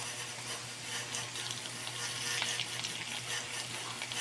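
Pancit noodles sizzle steadily in a hot pan as oyster sauce is poured in, a continuous close frying hiss with faint stirring and no talk.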